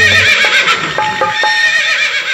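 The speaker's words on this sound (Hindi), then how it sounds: "मेरा घोड़ा बदमाश है" A horse whinnying loudly and steadily at close range during a Nautanki-style Banjara folk dance performance, with faint hoof-like clops and tones mixed in under the neigh.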